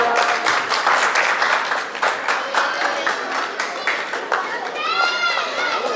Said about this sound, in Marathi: जोरात टाळ्या होऊन द्या.